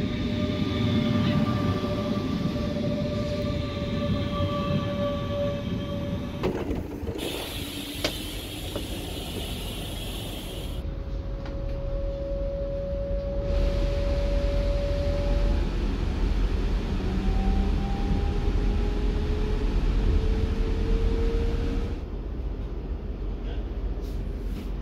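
A German regional train running, heard from inside a carriage: a steady loud rumble and rolling roar throughout, with long whining tones rising and falling and a few brief rattling bursts, no speech.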